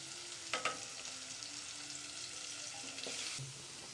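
Chili, coriander, turmeric and pepper powders fry in a pan for Kannada-style egg rice, a faint steady sizzle broken by a few scraping stirs and clinks, with no voices.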